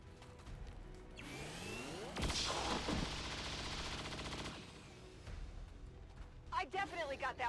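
Gunfire in XCOM 2 War of the Chosen: a loud automatic burst with a whooshing sweep of tactical effects sits mid-clip, followed by quieter game sounds and brief chatter near the end.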